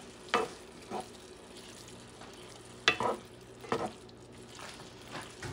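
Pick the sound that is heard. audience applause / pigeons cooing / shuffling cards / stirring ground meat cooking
stirring ground meat cooking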